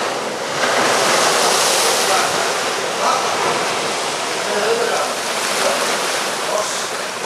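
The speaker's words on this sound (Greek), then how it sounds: "Τα κύματα κάλυπταν το λιμενό βραχίωνα, φτάνοντας μέχρι τις εισόδους των καταστημάτων εστίασης." Loud, continuous roar of storm waves crashing over an old harbour breakwater in strong wind, a dense broadband rush that swells and subsides without a break.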